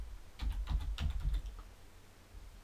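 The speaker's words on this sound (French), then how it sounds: "Je vais taper Dupont" A few quick keystrokes are tapped on a computer keyboard, faint and close, in a short burst before a quiet tail.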